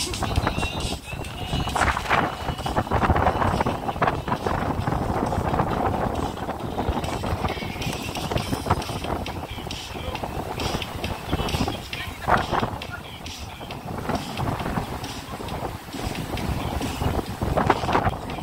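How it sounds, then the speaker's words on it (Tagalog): Strong wind gusting across a beach front, a steady rough roar buffeting the microphone throughout, with people talking over it. "Sobrang lakas ng hangin."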